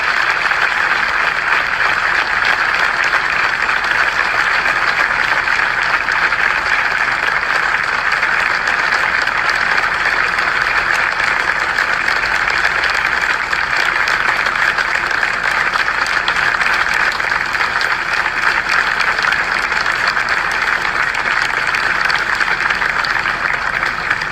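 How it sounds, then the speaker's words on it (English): A large crowd at a university memorial announcement gives sustained applause with cheering, a dense, even roar of clapping that holds steady for over twenty seconds. "get a round of applause and some cheers from you all"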